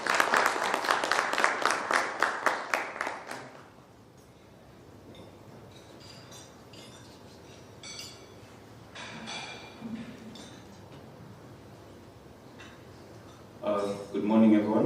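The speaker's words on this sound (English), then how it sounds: "A round of applause for him as he comes on stage" Audience applause at a Kenyan AI discussion event as a speaker walks onto the stage, a short burst of rhythmic clapping that fades after a few seconds into quiet room murmur, with faint clinks and a brief voice later.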